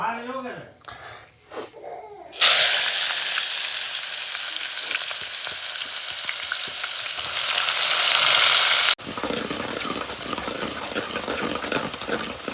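Onion dropped into hot oil with cumin tempering for brinjal bharta, erupting into a loud, close sizzle that hisses steadily and then shifts to a busier frying crackle. A voice talks during the quieter opening.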